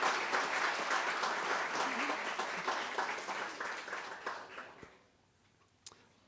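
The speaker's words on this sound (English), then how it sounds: "And a big round of applause for our 2021 graduating team." An audience at a canine support teams commencement ceremony applauds the 2021 graduating handlers and their dogs, a full round of clapping that gradually thins and fades over about five seconds, followed by quiet with a stray sound.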